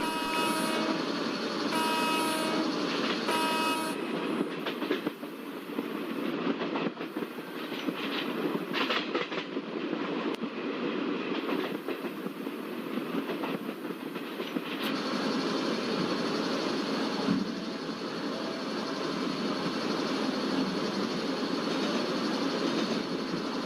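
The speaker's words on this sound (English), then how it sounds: "let's slow down our train by applying both the brakes" An express train rumbles steadily along the rails with continuous mechanical noise and brake hissing as it slows from about 56 km/h, holding a fairly constant loudness throughout.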